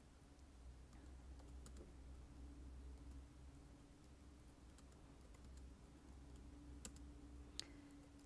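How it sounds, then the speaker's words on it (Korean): Computer keyboard typing during a Korean word-processor (Hangul) exam practice session, a steady run of soft, close key clicks over a constant low hum, with a couple of sharper taps near the end. "선생님도 이렇게 타이핑 하셨는데"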